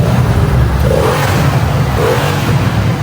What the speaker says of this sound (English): give me some revs